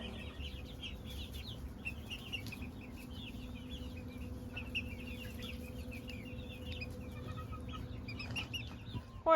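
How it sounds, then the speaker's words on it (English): Chickens clucking on a small farm near the coops, a steady scatter of soft clucks from several birds over a constant low hum, moderately close, with no talking. "What are you doing out, chicken?"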